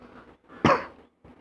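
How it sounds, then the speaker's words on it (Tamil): A single loud, close cough bursts out between stretches of someone talking at a lecture or tutoring session, sharp at first and then trailing off over about half a second. "இருமல் வேறு"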